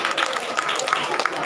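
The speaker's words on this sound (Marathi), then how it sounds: "टाळ्यांचा आवाज कमी पडतोय." An audience claps at a Konkani naman puja performance, a short burst of dense clapping with voices mixed in.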